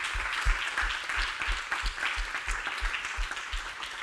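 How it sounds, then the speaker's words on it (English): Applause at an academic conference paper session, a thin spread of clapping from a modest audience, heard at some distance over a steady thumping low-end beat. "let's give a round of applause to other presenters."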